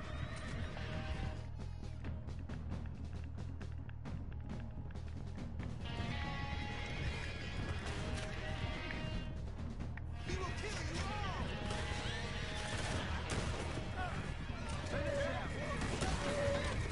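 Horses gallop and neigh in Red Dead Redemption 2, with steady hoofbeats, several whinnies and riders' voices mixed over the action.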